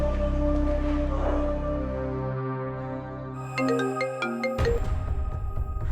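A telephone ringing with a repeating electronic tone that grows more insistent in the second half. No one speaks.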